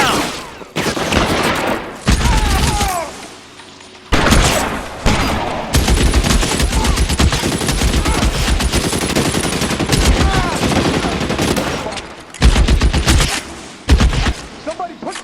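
Sustained gunfire from the video game L.A. Noire, rapid bursts and volleys of shots running almost nonstop, loud and dense, with a brief lull and shouted voices mixed in.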